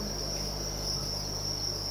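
Dense, continuous chirping of crickets on a Vietnamese cricket farm, a high steady trill held at even loudness with a low background hum and no voices.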